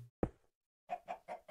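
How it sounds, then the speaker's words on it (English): Minecraft chickens clucking in short, faint bursts: a click, then four evenly spaced clucks close together. "We have 8 chickens ready to go in here and start our cooker."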